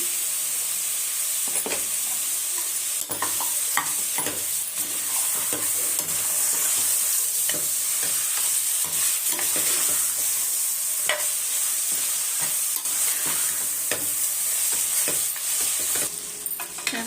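Mutton sizzling in a pan with salt and turmeric, a steady bright frying hiss throughout with scattered stirring clinks and scrapes, close and loud, no voices.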